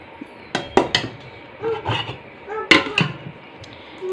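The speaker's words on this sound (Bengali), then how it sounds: "দেখো ভাতটা একটু চটকিয়ে নিচ্ছি।" Cooked rice being mashed by hand on a plate, with a few soft squelching presses and light clinks of the plate at an uneven pace, close and moderately loud, and a little talk in the background.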